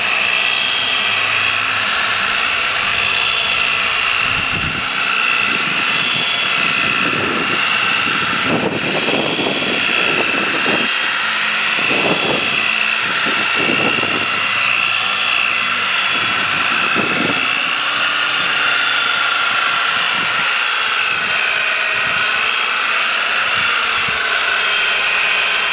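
A polishing wheel buffs car paint with a loud, continuous high-pitched whirring drone that rises and dips slightly as it sweeps back and forth.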